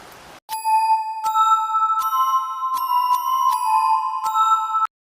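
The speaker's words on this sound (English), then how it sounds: "If you ever hear the sound of bells late at night, don't follow them." Bright, sustained bell chimes ring out late at night, a series of clear tuned strikes layered over one another, loud and close, each note overlapping the last, following a brief burst of noise at the start.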